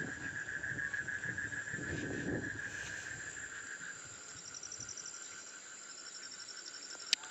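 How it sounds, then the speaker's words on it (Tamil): Steady night chorus of frogs and insects near a water channel, a continuous high trilling drone with low rumbling underneath, fairly loud and unbroken throughout. "தவளை சத்தமெல்லாம் கேட்குது"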